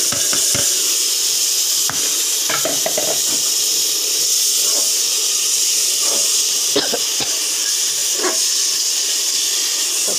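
Vegetables hit a hot pan for khichuri, and a loud, steady hissing sizzle follows, broken by scattered clicks and scrapes of stirring, with no voices.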